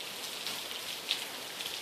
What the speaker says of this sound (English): And it's starting to rain, man.